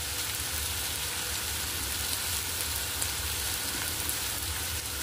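Chopped ginger and garlic frying with onion in a pan, giving a steady, dense sizzle that holds evenly throughout with no voices.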